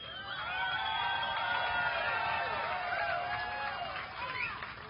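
A large crowd at a Bassmaster Elite fishing tournament weigh-in on the St. Johns River in Palatka cheers and whoops continuously at a distance, with shouts and whistles rising through the din for several seconds.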